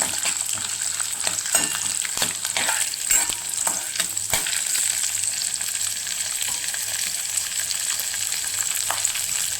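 Chitranna ingredients sautéing in a pan with steady, close sizzling and frying, broken by repeated scraping strokes of a spatula stirring and tossing them; no voices.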